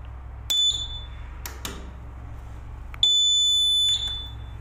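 A fire alarm panel sounds its trouble signal, with sharp electronic beeps and a sustained high tone that holds for about a second, loud against a steady low hum.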